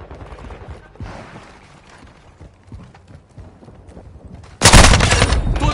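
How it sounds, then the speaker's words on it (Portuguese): Gunfire from the Call of Duty Modern Warfare 2 multiplayer game crackles in scattered shots and clatter, then erupts into a loud, sustained burst of rapid fire near the end. "Tô levando tiro."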